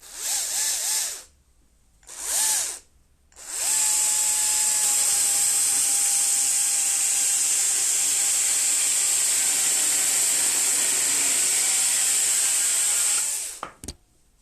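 Stihl battery telescopic pole saw cutting six-inch wood: two short high-pitched buzzing bursts, then a sustained whining cut of about ten seconds at steady loudness before the motor stops abruptly, with no talking.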